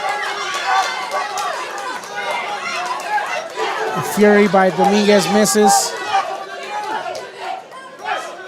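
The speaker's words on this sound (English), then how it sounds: "Crowd's going crazy." Spectators roar and chatter throughout a live boxing fight between Jimmy and Dominguez, a dense, steady crowd wash that surges louder midway, with a commentator talking over it the whole time.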